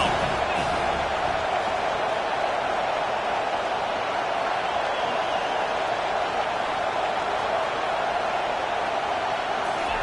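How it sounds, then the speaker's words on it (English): A college football stadium crowd roars steadily on third down, a dense, sustained wall of cheering with no break, loud and even throughout. "Decibels rising as the crowd gets behind this defense on 3rd down"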